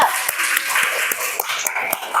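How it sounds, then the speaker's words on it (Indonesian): Classroom applause for a student group after their presentation: brief, uneven hand clapping with scattered sharp claps over a busy, noisy room, and some talking mixed in. "tepuk tangan untuk kelompok 2"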